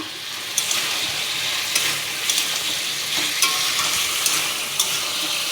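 Okra and ridge gourd fry in a pan with ground coriander, cumin and ginger paste, giving a steady close sizzle with scattered crackles and the scrape of stirring, and no voices.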